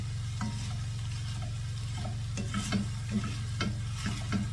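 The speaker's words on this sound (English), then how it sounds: "we're starting with the sausage in a pan. We're going to fry this up and crumble it down." Italian sausage fries in a pan with a steady sizzle and occasional stirring scrapes, close and continuous, with no voices.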